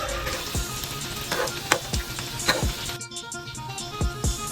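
Rice vadai frying in hot oil, a steady crackling sizzle broken by short clinks and scrapes as the pieces are moved and turned to crisp on both sides.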